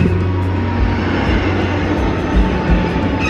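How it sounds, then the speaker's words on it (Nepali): A steady, loud engine roar rumbles throughout, like an airplane passing overhead, with no voices. "प्लेन उडेकोले अलिक आवाज भयो होला"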